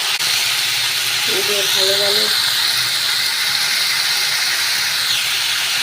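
Potatoes go into hot mustard oil tempered with black cumin in a kadai, giving a steady, loud, hissing sizzle throughout, with a voice talking briefly in the middle.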